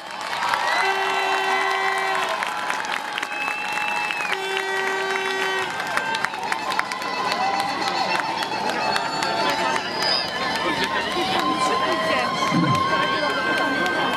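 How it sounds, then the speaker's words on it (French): A large crowd applauds steadily with scattered cheers and shouts, a dense wash of clapping that carries on throughout with voices mixed in. "Je vous demande d'applaudir"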